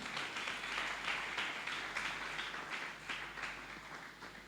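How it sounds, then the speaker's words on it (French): An audience at a church gathering applauds steadily and fairly loudly for several seconds, the dense clapping fading slightly toward the end. "Est-ce qu'on peut applaudir papa là?"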